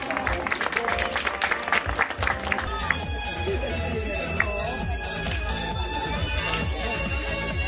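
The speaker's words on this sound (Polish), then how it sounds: "Gorące brawa." A crowd at a seniors' sports day claps, with dense applause rising and holding steady while a voice speaks over a loudspeaker, fairly loud and continuous.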